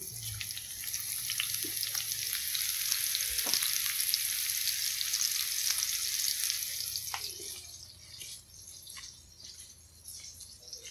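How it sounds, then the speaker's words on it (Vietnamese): Vegetable stems frying with ginger and fish in hot oil give a steady, loud sizzle and crackle, with occasional stirring clinks, easing off toward the end; no talking. "Mình sẽ lấy một phần cọng chiên cho vàng"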